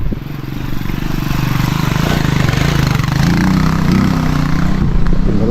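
A habal-habal motorcycle taxi passes close by on a rural road, its engine buzzing loud and steady and rising slightly as it goes past.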